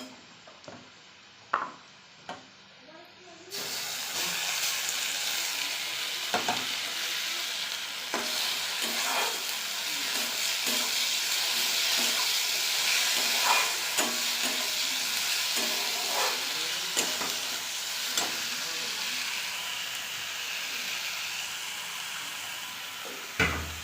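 Onions fry in a pan as ginger garlic paste is added, a few clinks and knocks giving way to a loud, continuous sizzle, close and steady, with occasional utensil taps and stirring scrapes throughout.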